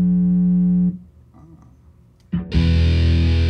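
A sustained distorted guitar chord through an Electro-Harmonix Sovtek Deluxe Big Muff Pi fuzz pedal with a noise gate cuts off abruptly into near silence, then a new loud, heavily fuzzed chord bursts in and holds.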